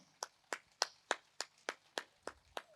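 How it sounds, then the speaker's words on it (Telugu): Clapping after a meditation session at a Dhyana Yagna gathering at Dwaraka Tirumala: about nine sharp claps in a steady, evenly spaced rhythm, close and alone. "ధ్యానాన్ని గట్టి క్లాప్స్ చేసుకుందాం."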